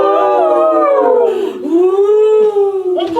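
A voice imitating a pack of hungry wolves, with long, loud, sliding howls that rise and fall, close by and alone except for a brief yip near the end.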